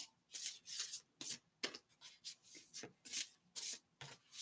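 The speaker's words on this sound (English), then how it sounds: "let's shuffle up a little bit more" Rapid riffling bursts of oracle cards being shuffled, repeated several times in quick irregular succession, close and fairly crisp, with no voices.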